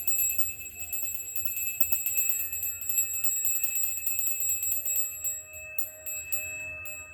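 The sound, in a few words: bell rung to open a shamanic journey session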